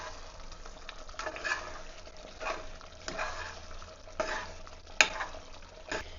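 Mutton gravy with chopped coriander being stirred in a pan, with soft scraping strokes of a spoon at a steady, unhurried pace and a faint sizzle underneath, all fairly quiet.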